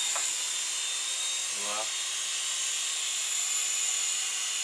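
Small Syma S107 toy RC helicopter hovering indoors, its rotor giving a continuous high-pitched whine close by, steady throughout, with one brief spoken word over it.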